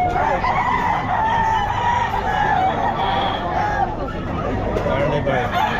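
Chickens and roosters at the Bocaue pet market crow and cluck continuously, loud and close, amid busy market ambience with people talking throughout.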